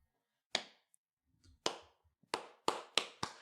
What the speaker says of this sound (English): And slowly the crowd begins to applaud